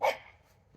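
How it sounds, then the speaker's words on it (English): A single dog bark, sharp and fairly close, opening the moment before fading into a quiet background with no talk. "I got my dog barking in the background"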